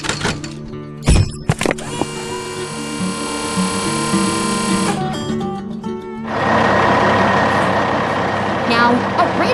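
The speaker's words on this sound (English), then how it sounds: "Now, a red tow truck arrives" A red tow truck rolls in within the LandfillFix 3D game, its engine a steady low drone with mechanical whine and a few clunks, swelling into a louder rumble near the end amid game sounds.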